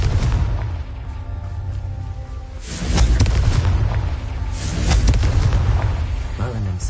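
Confringo fire spell cast in Hogwarts Legacy, heavy booming blasts near 3 s and again around 5 s over a constant low game rumble and music.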